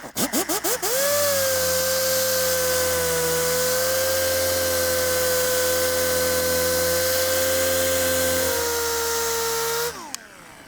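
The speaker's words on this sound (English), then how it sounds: "So having said that, I'm going to get to polishing here." A machine polisher works on the tail light lens of a BMW E39 M5. A few quick pulses come first, then the polisher settles into a steady, loud whine for about nine seconds before spinning down.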